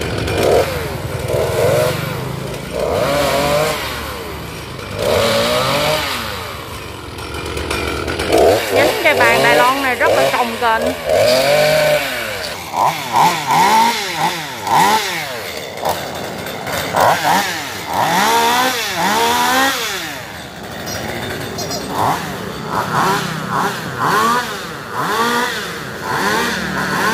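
A chainsaw buzzes and revs in repeated bursts as it cuts a Taiwanese almond tree beside three-phase power lines, loud and close, with a person talking intermittently over it.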